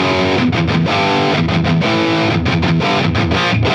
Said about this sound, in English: if you turn the gain all the way up in the highest gain setting and push it with a tube screamer